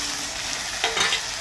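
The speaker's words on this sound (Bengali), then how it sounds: "এবার এর মধ্যে টমেটো ভাজা দিয়ে দেবো," Tomatoes sizzle in a hot pan with a constant hiss, and a couple of short scraping stirs surface near the end.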